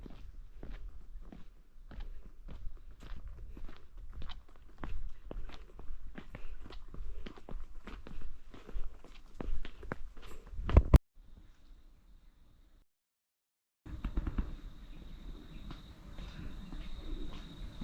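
Footsteps along a trail through grassland in Taiwan, a steady series of close, soft crunching steps for about eleven seconds, then a sudden break and quiet outdoor ambience with a faint hum.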